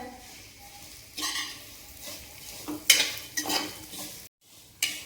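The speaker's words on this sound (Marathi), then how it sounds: "शेवया अशा लालसर होईपर्यंत मस्त अशा भाजून घ्यायच्या" Dry scraping and rustling as vermicelli is roasted and stirred in a pan, in uneven bursts with a few clinks of a utensil, over faint frying.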